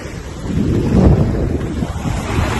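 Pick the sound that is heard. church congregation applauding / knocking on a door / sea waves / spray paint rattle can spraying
sea waves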